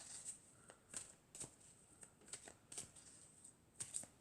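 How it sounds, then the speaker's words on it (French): Oracle cards, tarot-style, being shuffled and drawn, giving a run of light, crisp flicks and riffles that come in irregular bursts about every half second, close and quiet with no voices. "on va tirer 4 cartes."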